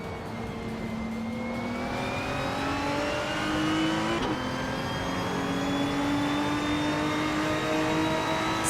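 A Lamborghini Gallardo GT3 in a racing game holds a steady, loud engine drone with slowly rising pitch as it accelerates, continuous and without talk.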